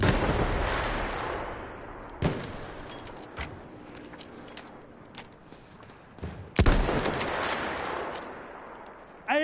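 Anti-aircraft guns fire in a war video game, sharp loud bursts cracking out at intervals over a rough, steady roar of battle noise.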